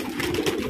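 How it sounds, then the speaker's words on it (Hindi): Pigeons coo softly and steadily at close range, a continuous low murmuring chorus with no talk over it. "ये कबूतर सब किसी किसी के आ रहे हैं, ये ऊपर से जा रहे हैं"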